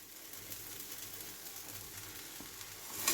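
Rice going into a pan of masala that sizzles and fries steadily, a close, even hiss with light stirring scrapes and a brief louder clatter at the end.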